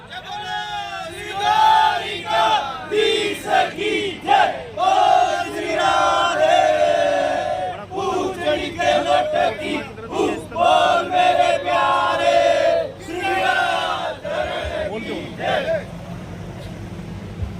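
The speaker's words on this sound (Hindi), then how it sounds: "जोरदार तालियों से अभिनंदन करें विधायक महोदय का कि आप पधारे और अपना उद्बोधन रखें।" A political crowd cheers and chants in loud, rhythmic bursts of many voices, welcoming a woman MLA at a foundation-stone ceremony for local development works. It is continuous and close, with brief pauses between waves.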